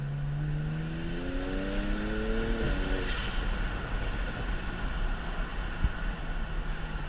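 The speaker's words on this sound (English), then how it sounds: "I'll do a little third gear hit for you right here" A BMW 335is E92 with a DCT gearbox pulls hard in third gear, its engine note climbing steadily in pitch for about three seconds before easing off into heavy road and wind roar inside the cabin.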